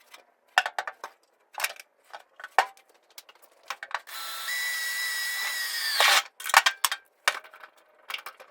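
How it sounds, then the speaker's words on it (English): Power drill boring a hole in a hot garage while working on a rotary car's fuel and cooling system, a steady whining burst of about two seconds alone, set between sharp clanks and knocks of handling tools and metal. "So I'm gonna mark this and try and drill a hole in this beautiful 30-degree garage."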